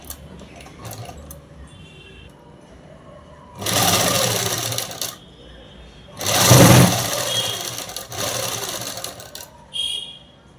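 Sewing machine stitching folded cloth for a French cut dress, heard as two loud bursts of rapid whirring stitching, each a second or two long, between quieter pauses with light mechanical clicks.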